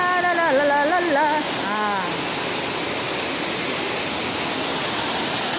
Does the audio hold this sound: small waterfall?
yes